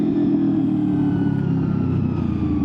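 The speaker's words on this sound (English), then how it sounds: "with like that first and second gear shift, you hear that and it just sounds beautiful" A Honda VFR800fi motorcycle engine pulling through first and second gear, a loud, close, steady mid-pitched drone with a slight shift in tone, no voices over it.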